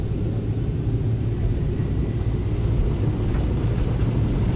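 Steady, powerful low roar of Boeing 737 jet engines at takeoff thrust in the X-Plane flight simulator, departing Vancouver, a dense continuous rumble without a break and with no talking.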